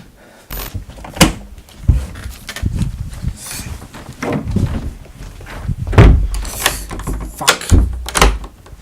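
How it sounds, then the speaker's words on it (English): Repeated heavy blows and thuds against a door as a team tries to break it down in a sci-fi short film, loud, irregular impacts with rattling, continuing for several seconds without speech. "They're trying to break down my door."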